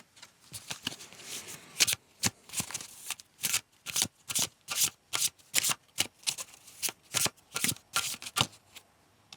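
Tarot cards being shuffled by hand, a rapid series of crisp riffling bursts and soft slaps repeating in an uneven rhythm, close and quiet with no talk.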